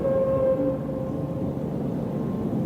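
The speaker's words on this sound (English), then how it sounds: "That sounds like a train." A train rumbles steadily at a distance, a low continuous roar with a faint sustained tone, heard in a recording of strange noises coming from the sky.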